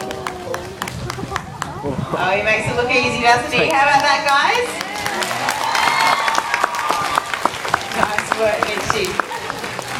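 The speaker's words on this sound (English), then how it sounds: "I want you guys to give him a great big round of applause." A zoo audience at Taronga Zoo claps and cheers for a performing seal named Mitchie after its trick, a lively spread of applause running beneath a presenter talking over the crowd.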